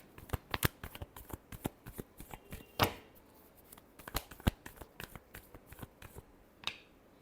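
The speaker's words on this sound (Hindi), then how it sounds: "Last shuffle." Tarot cards being shuffled by hand, a run of sharp, crisp riffling clicks and slaps in an irregular rhythm, close and fairly loud, with one louder burst midway and no talking.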